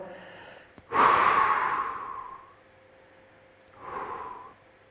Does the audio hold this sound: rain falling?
no